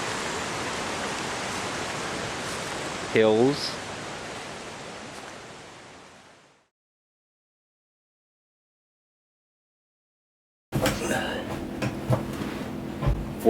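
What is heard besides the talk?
water flowing at a creek and dam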